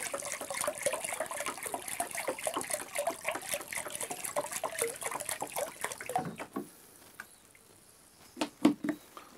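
Seawater poured steadily into a marked container for natural farming, a continuous splashing trickle for about six seconds that then stops, followed by a few soft knocks and drips.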